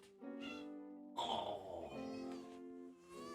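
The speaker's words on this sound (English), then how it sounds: "you are, after all, a very cute little kitty cat" A small kitty cat meows several times up close, the calls rising and falling in pitch with a longer, more strained cry in the middle, soft and alone without talking.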